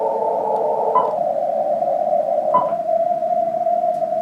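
Faint CW Morse signals on the 80-meter amateur band, heard on a receiver through a poor low-frequency antenna, form a steady, thin tone buried in heavy static hiss with brief blips of interference.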